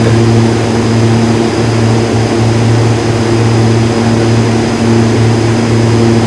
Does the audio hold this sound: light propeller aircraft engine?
yes